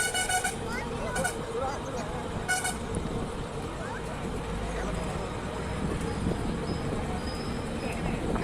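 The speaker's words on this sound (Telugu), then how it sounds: "ఇక్కడ చూడండి ట్రాక్టర్లు వ్యాన్లు జీబులు ఎన్నున్నాయో చూడండి వాహనాలు కార్లు" Heavy festival traffic of tractors, vans, jeeps and cars at the Narawada Vengamamba festival, with several loud horn toots over a continuous rumble of engines and crowd noise.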